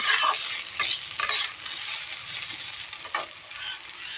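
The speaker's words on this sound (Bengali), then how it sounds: "এখানে মূলো ভাজা হচ্ছে" Radish pieces frying in a home kitchen pan, with steady sizzling and scraping stirring strokes that come in bursts close up; no one talks.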